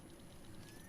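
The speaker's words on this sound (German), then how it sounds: "Kurz nachladen." A gun being reloaded in the horror shooter Daymare: 1998, heard as a quiet, brief mechanical clicking and ratcheting over low background hum, with no other sounds on top.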